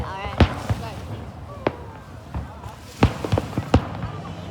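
Fireworks bursting at Stanley Park's Second Beach, a series of sharp booms and pops at irregular intervals, some clustered close together, with someone talking over them.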